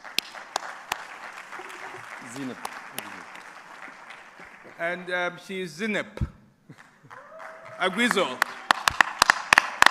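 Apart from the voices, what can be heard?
conference audience applause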